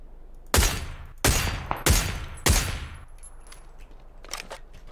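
SLR rifle fire in PUBG: four sharp, loud single gunshots spaced roughly evenly over a few seconds, each with a ringing decay, followed by fainter distant shots.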